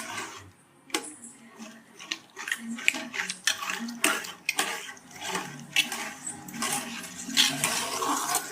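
Black urad dal flour is stirred into water in a pot, giving repeated sloshing, scraping strokes with small clinks in an uneven rhythm, close up and fairly loud.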